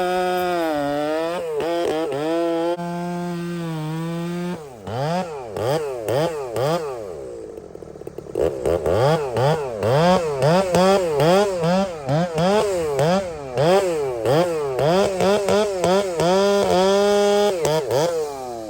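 A Makita Dolmar chainsaw cuts through dead, hard wood, its engine loud and close, whining up and bogging in repeated strain cycles with a brief drop to idle partway through.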